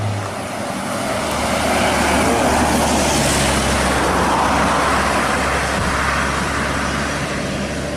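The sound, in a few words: Minang bus arriving from West Sumatra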